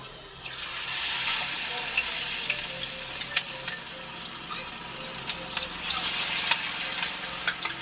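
Chicken pieces frying in oil in a pan give a steady, fairly loud sizzle with occasional pops and crackles, alone without talk.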